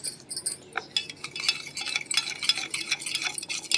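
A spoon stirs sugar and sabja seeds into a drink, making quick rhythmic clinks and scrapes against the glass in short repeated bursts, close and fairly loud, with no talking.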